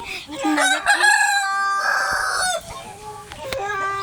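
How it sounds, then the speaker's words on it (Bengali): Chickens and a rooster on a small backyard poultry farm at midday: close, loud clucking and a drawn-out crow, with short squawks in between. "আমাদের মুরগি গেস দুপুর বেলা খাবার দিয়ে দিয়েছি"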